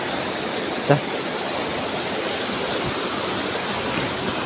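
Water spills from above into a natural swimming pool at Jaljale near Pokhara, a steady, close rushing roar with one brief knock near the start and no pause.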